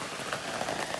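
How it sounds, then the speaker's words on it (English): Steady rain patters on a canopy at a gold mine, a dense continuous hiss of drops close by with no voices. "it just started raining here"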